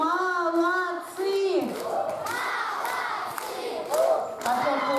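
Children at a summer camp party shout and cheer together for the 6th squad, a loud crowd roar of young voices with rising calls and a few thumps, no clear clapping.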